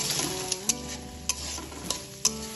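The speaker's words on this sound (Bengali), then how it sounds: "এবার এই তেলের মধ্যে যে সবজিগুলো নিয়েছিলাম সেইগুলো একে একে দিয়ে দিলাম। সবজিগুলো তেলের সাথে একটু ভালোভাবে ভেজে নেব।" Mixed vegetables fry in hot oil for vegetable rice, a dense close sizzle broken by a few sharp spatula knocks against the pan at roughly half-second intervals.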